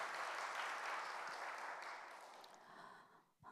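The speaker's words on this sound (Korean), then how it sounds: "하나님께 영광의 박수 올리겠습니다." A church congregation at a Friday prayer meeting applauds after a hymn. The clapping is soft and distant, holds steady, then thins and fades out near the end.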